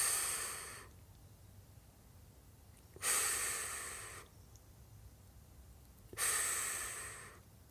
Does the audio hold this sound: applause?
no